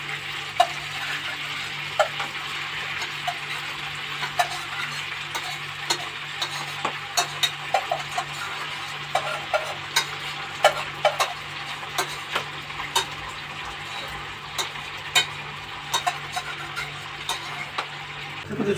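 Fried meat and cooked pasta being stirred together in a pan, with steady soft sizzling under repeated light spatula ticks and scrapes, close and alone with no talk.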